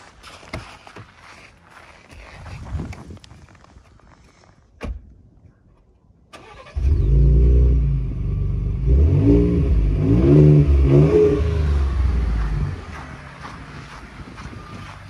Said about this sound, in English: You let them hear the exhaust note